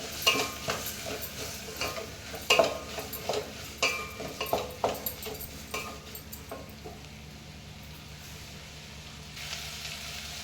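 Radish pieces sizzle and fry in a pan while a utensil stirs them in repeated scraping strokes, the stirring busier at first and then easing off to a quiet, steady sizzle.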